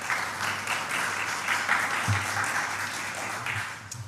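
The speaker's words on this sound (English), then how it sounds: "Can we just give a round of applause?" A crowd claps steadily through the whole stretch at a judiciary gathering honouring the Chief Justice, a dense, even roar of hands with no voices over it and only a brief low bump partway through.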